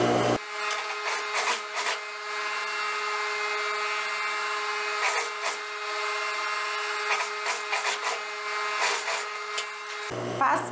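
A domestic sewing machine stitches close topstitching on the facing of a blouse with gathered sleeves, a fast continuous mechanical whir in one long run with slight fluctuations, stopping at the end.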